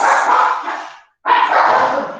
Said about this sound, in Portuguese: O cachorro é triste.